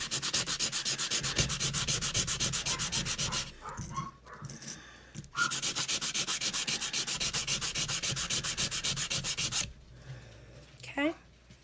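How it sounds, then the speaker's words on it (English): Hand sanding with a sanding block, rapid rhythmic back-and-forth rasping strokes, loud and close, in two long bursts separated by short pauses, with faint panting from a dog between strokes. "I have to make sure that I've taken out all of the sideways lines, or I have to keep sanding."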